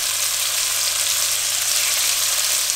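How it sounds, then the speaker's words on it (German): Tofu fries in hot oil in a pan, giving a loud, dense, continuous sizzle with a steady crackle from start to finish. "Jetzt tun wir uns den Tofu da rein und braten den mal eine Runde an."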